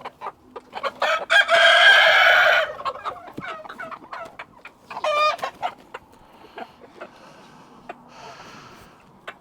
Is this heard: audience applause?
no